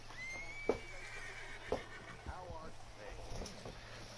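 A horse whinnies in Red Dead Redemption 2, a brief high, falling call near the start, followed by scattered thuds and clicks over a low steady game hum.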